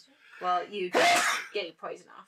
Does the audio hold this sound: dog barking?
no